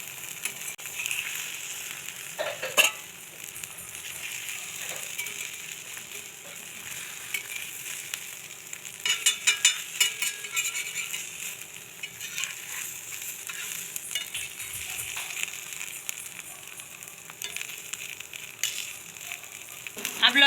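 Mutton egg kalaki cooks in a pan with a steady soft sizzle, broken by intermittent clicks and scraping clatter as the pan is rotated, close and fairly quiet, no speech.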